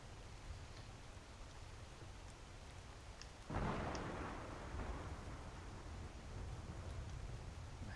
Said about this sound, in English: I love these thunderstorms. This lightning is amazing.